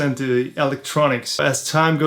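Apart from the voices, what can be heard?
No everyday noises stand out.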